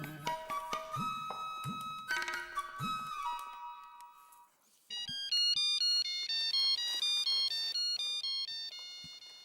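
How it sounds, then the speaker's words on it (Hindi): A ringtone sounds on a telephone as a call is placed, a bright electronic melody of repeating tones, with the pattern changing partway through; it rings loudly and alone, with no talk over it. "मेहता साहब को फोन करता हूँ"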